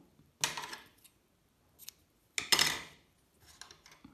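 Scissors snip at the cord of a small handmade witch's broom for a doll, two crisp close cuts about two seconds apart with a couple of fainter snips between and after.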